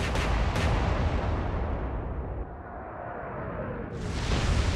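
Heavy battleship guns boom in a naval warfare game, the Lützow joining fire on HMS Warspite; a loud opening blast with sharp reports, then a long rumbling decay that swells again near the end.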